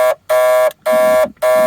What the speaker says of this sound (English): the buzzer comes on just to remind you that the lights are on